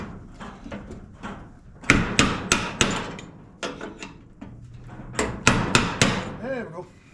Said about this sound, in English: Just took that little hammer right there. Little plastic, little rubber hammer.